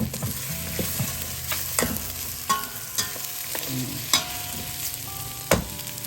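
Eggplant fries with pork bits in a pan, a steady close sizzle punctuated by periodic knocks and scrapes of a spatula stirring the pieces.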